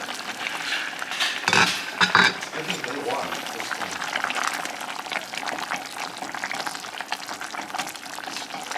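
Miyeok guk, Korean seaweed soup broth, simmering in a pot with a steady low bubbling and sizzle, a couple of brief clatters near the start.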